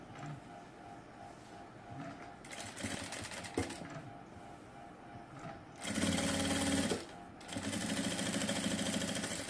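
A sewing machine stitches piping fabric onto a dress seam in short bursts, with a louder, steadier whirring run in the second half that stops briefly and resumes close by.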